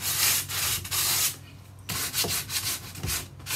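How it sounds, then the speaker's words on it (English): Close, rhythmic scratchy rasping of 180-grit sandpaper on a sanding sponge rubbed back and forth over painted wood, in several strokes with brief pauses between. "180 grit sandpaper, and I've just got it wrapped on a sanding sponge"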